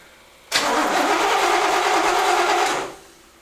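A 1973 big block Corvette engine, parked since 1991, cranks and catches with a loud, steady roar that holds for about two and a half seconds and then cuts off abruptly.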